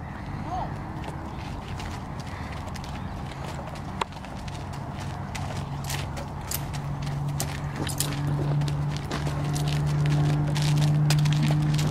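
Hooves clop on the ground in an uneven walking rhythm, close by, while a low engine-like hum grows steadily louder in the background.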